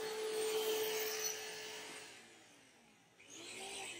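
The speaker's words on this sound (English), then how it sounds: "Is he chasing me with a bush trimmer?" A bush trimmer buzzes as a sound effect in the horror video game Clayton Manor, a sustained grinding whine that fades and dips before surging back, fairly faint and with no talk over it.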